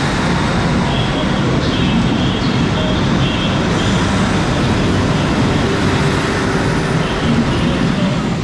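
A Northern passenger train, unit 156459 on the 19:52 service to Alderley Edge, departs a station near Stockport with a loud, steady rumble that fills the whole stretch from close by.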